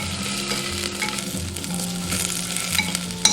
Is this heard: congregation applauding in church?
no